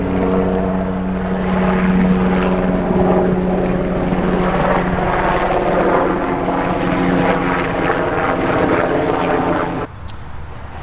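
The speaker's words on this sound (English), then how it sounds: "there's an airplane behind me, or a helicopter" A loud propeller aircraft or helicopter drones steadily nearby, its engine tone holding for several seconds before fading out abruptly near the end.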